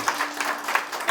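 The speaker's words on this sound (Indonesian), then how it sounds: "berikan tepuk tangan yang meriah" A short burst of clapping from a small group at a church service, light and uneven, fairly close.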